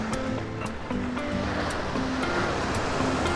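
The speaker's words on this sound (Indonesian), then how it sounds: "Kita sembari dengerin ombak di lautan yang lagi berdeburan." Ocean waves break continuously at Ulee Lheu beach, a steady, close wash of surf with no voices over it.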